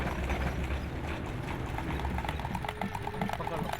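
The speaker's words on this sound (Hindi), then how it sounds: "घोड़े को पाँव से जो टिक टिक की आवाज़ आती है" Hooves clip-clop in a steady rhythm over a constant background rumble, with a brief voice faintly audible partway through.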